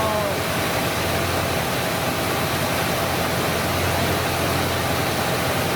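A 1970 Buick Wildcat V8 with a freshly fitted Quadrajet carburetor idles steadily, a loud, continuous rumble with broadband hiss and no change in pace throughout.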